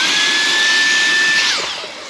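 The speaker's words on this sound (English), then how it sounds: "back to the little vac. Get into all the little nooks" A small handheld vacuum cleaner drones steadily and loudly while cleaning dirt and sand out of a motorcycle airbox, then its pitch drops and it fades toward the end.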